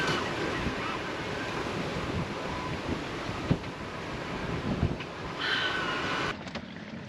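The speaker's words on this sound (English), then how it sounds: "The ocean is crazy right now." Rough Pacific Ocean waves surging around a sailboat at sea, a steady roaring wash with gusting wind buffeting the microphone and occasional splashing thumps against the hull.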